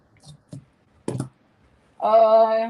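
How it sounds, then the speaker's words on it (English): Scissors cutting fabric out along a line of pins for a pencil flare skirt, heard as three short, crisp snips spaced apart, followed by a brief sustained voiced sound. "then you get your scissors and you cut it out"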